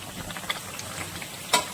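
Mutton is stirred and sautéed uncovered in a pan, with a moderate frying sizzle, light stirring scrapes and a sharper clatter near the end.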